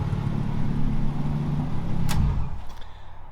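A BMW E36 fitted with a 2JZ engine idles while warming up, giving a steady low rumble up close, with one brief sharp click partway through.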